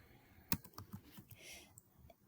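Quiet, close clicks of fingers typing on a computer keyboard, a few brief keystrokes with one sharper tap near the start.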